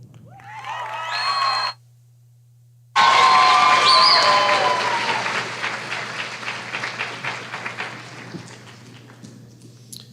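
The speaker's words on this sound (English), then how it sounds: "let's give another round of applause for these talented ladies" A crowd applauds performers, a loud burst of clapping with some cheering that swells after a short gap and then gradually thins out, preceded by a brief tonal passage.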